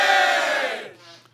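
Short burst of crowd cheering used as a radio show sound effect, a loud roar of many voices that fades away within a second.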